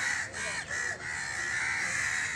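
A crow that has just recovered from an electric shock gives three short caws in quick succession, close by, over a loud steady background hiss.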